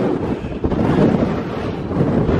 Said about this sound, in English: it's more exposed up here, and the wind is blowing like a hoolie up here.